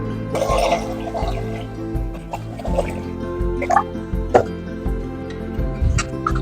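About a kilogram of rice is washed and left soaking in water in a home kitchen for Arabian-style mandi biryani, with scattered drips, plops and small splashes over a steady low hum.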